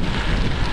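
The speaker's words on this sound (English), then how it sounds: "Whoa, big gust of wind" Strong gust of wind buffeting a cyclist on an outdoor ride in the Pennines, a steady, loud broadband roar with no pauses, filling the short moment on its own.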